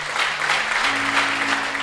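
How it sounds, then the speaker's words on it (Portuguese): Church congregation applauding during a sermon, a dense burst of clapping from many hands that fills the room steadily and fairly loud. "Você pode dar uma salva de palmas para Jesus?"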